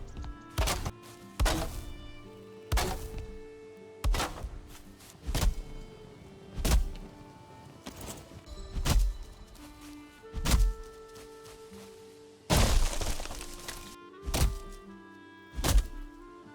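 Repeated solid wooden thunks from chopping and building in the video game Valheim, about a dozen evenly spaced hits with a dense flurry near the end, loud and close with no talk.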